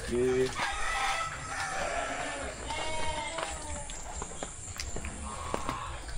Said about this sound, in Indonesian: ternak bebek dan juga ayam